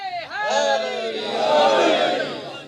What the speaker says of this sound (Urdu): تمہیں ہاتھ بلند کر کے مل کے نعرے